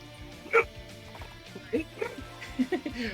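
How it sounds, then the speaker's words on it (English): A dog barks a few short, soft yips and woofs in the background, faint and scattered under a steady hum and game music. "I heard a dog"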